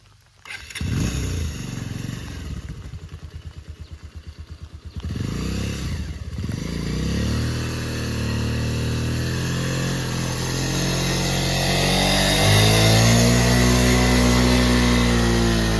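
A motorcycle engine revs hard nearby, starting with a rough clattering idle, then rising and holding in long sustained pulls that climb in pitch toward the end, loud and alone.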